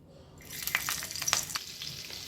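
Mushroom tikka pieces shallow frying in oil and melted butter on a dosa griddle, sizzling and crackling with sharp spatter pops that start faint and grow steadily louder.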